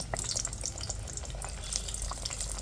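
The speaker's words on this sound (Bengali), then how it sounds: "দিয়ে কিন্তু সবগুলো একইভাবে ভেজে নেব" Palm fritters frying in hot oil, a soft continuous bubbling and crackle with scattered pops, fairly quiet and close, with no voices.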